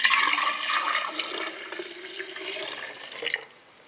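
Homemade almond milk pouring into a large mason jar, a close, steady liquid rush that gradually eases and fades to a trickle before stopping.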